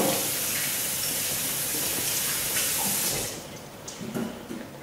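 Celery is rinsed under a running kitchen tap, a steady hissing stream of water that cuts off after about three seconds. Light splashing and handling follow.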